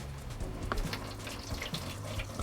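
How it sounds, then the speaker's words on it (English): A partly frozen faucet in an RV runs weakly, giving a quiet, steady trickle and splatter of water with a few faint clinks and drips, with no voices. "Let's try and turn the faucet on"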